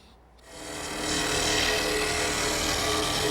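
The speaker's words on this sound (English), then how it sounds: "One final detail is this little score. A pair of dividers makes that easy." Dividers scribing a small score line into wood while making a Windsor chair: a steady, fairly loud scratchy rasp that rises after a brief quiet start and holds evenly to the end, with no talk.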